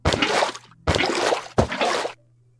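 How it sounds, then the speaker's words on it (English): Three quick watery sloshing splashes from Minecraft water buckets being filled at an infinite water source, each about half a second long, close and clear, with a faint low hum underneath. "we're just filling all of these water buckets up now"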